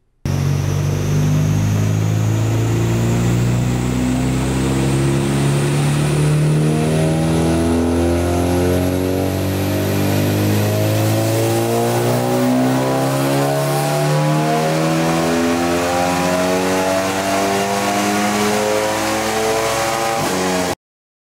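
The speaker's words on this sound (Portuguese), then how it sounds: "vou mostrar a puxada para vocês do carro" A stage 4 Volkswagen Jetta making over 400 wheel horsepower accelerates hard. Its engine roars loudly and steadily climbs in pitch through a long pull, with a brief shift near the end, and no voices are heard.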